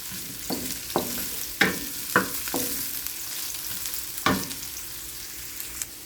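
Squid adobo sautéing in a pan with garlic, with several sharp clatters of a spoon against the pan over a low, steady sizzle, close by.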